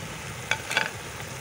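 Cloves and cardamom are stirred into a pot of zarda sweet rice: a soft background sizzle broken by two brief scraping clinks of a spoon against the pot.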